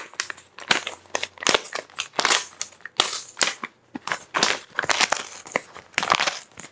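Crinkly plastic and paper wrapping from an Amazon book package being torn and crumpled open in repeated bursts, close and fairly loud, with no talking.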